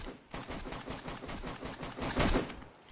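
A gun in the video game DayZ fires on full auto until its magazine is empty, a rapid, steady stream of sharp shots for about three seconds that then cuts off.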